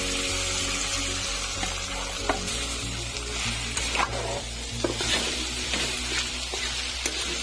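Whole cumin seeds and a spice paste frying in hot oil make a continuous close sizzle with occasional spatters and stirring scrapes, over a low steady hum.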